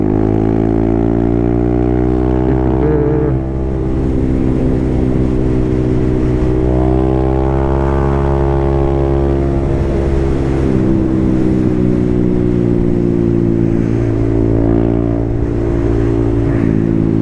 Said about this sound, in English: The traffic is still nice and light today